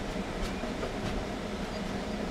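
From the driver's cab of a long Thai passenger train hauling eight cars on a holiday special, a steady rumbling roll of wheels on rails continues without pause, loud and close.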